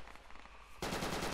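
Automatic gunfire in the military shooter Project Reality, a faint rattle of rounds at first, then a louder, denser burst of rapid shots from about the midpoint onward, with no talk.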